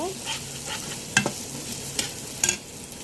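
Onion and chili softening in a large pan before shrimp are added, a soft close sizzle broken by a few sharp stirring clinks and scrapes, no talking.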